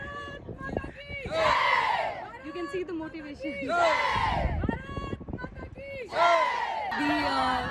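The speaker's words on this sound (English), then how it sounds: "You can actually hear the cheer." Girls of an all-girl NCC contingent at an Army Day Parade let out loud, rising collective cheers in three bursts, separated by someone speaking in between.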